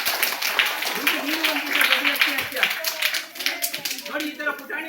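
Adults in an audience clap together at a newsletter release event in Madhugiri, a continuous, fairly close patter of many hands with voices mixed in underneath.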